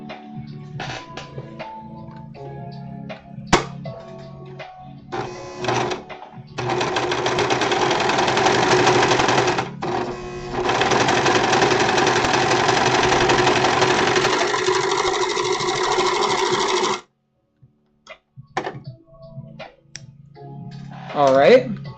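Sewing machine running a long, loud, steady stitching pass on a symbiote suit, close and continuous for about ten seconds with one brief pause, framed by clicks and handling before and after.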